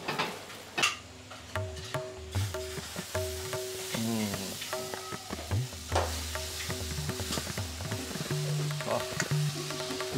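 A hot dosa pan is rubbed with onion before rava dosa batter goes on, giving steady sizzling with scraping and stirring scuffs, close and fairly loud with no voices.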